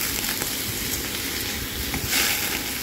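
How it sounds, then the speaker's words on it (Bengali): Prawns fry with onions in a hot pan, a steady dense sizzle crackling close by with no speech. "চিংড়ি মাছটাকে লাল করে পেঁয়াজের সাথে ভেজে নেব।"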